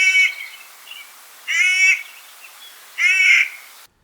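A Clark's nutcracker, a Rocky Mountain corvid, gives three harsh, grating caws spaced about 1.5 seconds apart, loud and close with no other sound between them.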